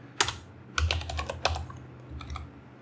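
Code being typed on a computer keyboard, a short burst of close, crisp key clicks in uneven clusters with a few heavier thumps, no talking.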